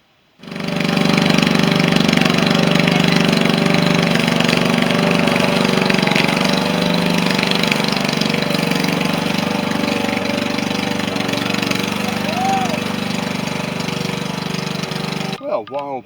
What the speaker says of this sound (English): Okay, let's get the mower out then, eh?